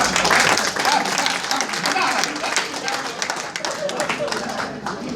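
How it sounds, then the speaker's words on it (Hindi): Audience applause at an Urdu-Hindi comic poetry gathering, a steady wash of clapping from a crowd under a voice and some cheering. "अपने लिए ताली बजाओ भाई"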